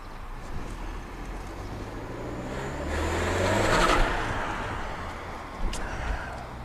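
A turbocharged car on a Ktuner stage 2 tune revs under boost, its engine note climbing to a loud peak and then easing back, heard from a moderate distance with steady road noise underneath.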